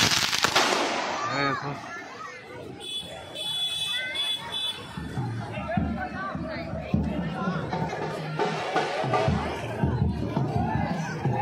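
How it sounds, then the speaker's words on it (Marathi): Firecrackers bursting in rapid crackling volleys amid a noisy crowd at a Ganpati immersion procession in Virar, with chatter and voices continuing throughout. "ये देखो फटाके फुट रहे"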